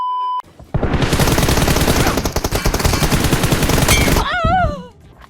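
Rapid automatic gunfire from the mobile battle-royale game PUBG Mobile, loud and dense, rattles nonstop for about three and a half seconds, then gives way to a brief warbling electronic tone.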